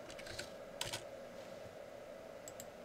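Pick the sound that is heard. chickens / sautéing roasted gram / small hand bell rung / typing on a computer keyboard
typing on a computer keyboard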